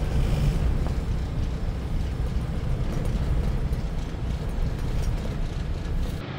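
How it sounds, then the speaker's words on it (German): Strong storm wind batters a boat moored with two lines in a marina, a steady loud broadband roar with gusty low rumble that fills the whole stretch without letup. "Am Schiff sieht man, wie es gerade windet."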